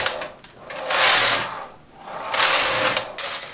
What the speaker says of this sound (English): I'll put about 16 rows of this circular knitting on before I remove the knitting from the machine.